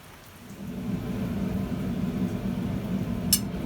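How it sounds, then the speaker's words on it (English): Steady rain pours down in a constant wash, with a low rumble underneath and a brief sharp patter near the end. "Been raining constantly for days."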